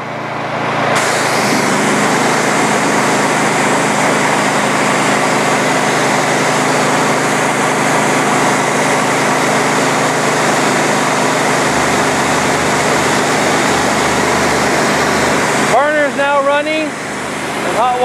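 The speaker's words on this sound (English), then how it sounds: "Pull the trigger and the burner will fire." Burner of a trailer-mounted hot water pressure washer firing, a loud steady roaring rush that starts abruptly and holds constant before cutting off near the end, close up.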